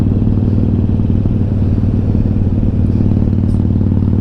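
A motorcycle rides along a road with a loud, close, steady engine drone and rumbling clatter heard throughout, with no pauses.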